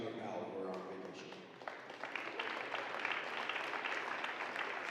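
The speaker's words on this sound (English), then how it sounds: "we can give a round of applause for Corbin Powell" Crowd applause for a senior basketball player at a high school game, clapping building after an announcer's voice and continuing steadily in a gym.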